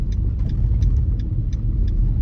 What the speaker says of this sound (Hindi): वर्किंग आवर है थोड़ा सा इसलिए ट्रैफिक है